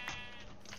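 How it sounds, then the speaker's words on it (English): Sheep bleating in the video game Minecraft, a single short nasal bleat, close and clear. "Sheep, man."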